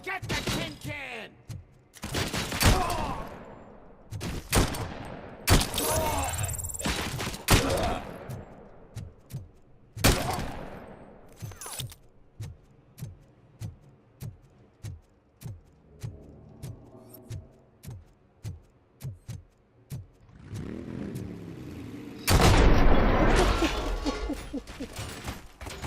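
Gunfire in the PC shooter RoboCop: Rogue City: sharp shots crack out one after another, in rapid volleys and then as a steady string of single reports, with some voices talking between them.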